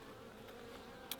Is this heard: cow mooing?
no